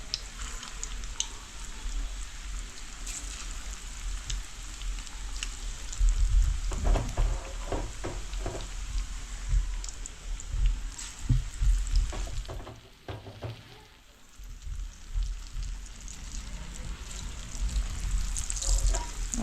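Small pieces of food frying in a pan at home, a steady close sizzle with brief louder bursts as the pieces are stirred, no talking.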